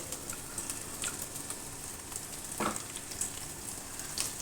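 Large-cut onions frying in hot oil in a home kitchen for chicken fried rice, a steady soft sizzle with crackling pops and an occasional louder spatter or stir.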